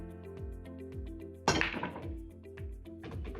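A billiards break shot sends the cue ball crashing into the racked balls with one sharp loud clack, followed by scattered clicks of balls colliding over a looping musical backdrop.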